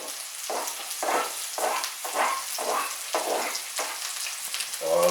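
A veal chop sizzles and fries in a pan while being basted with rosemary, steady crackling broken by repeated rhythmic bursts of louder spattering as fat is spooned over, close and prominent.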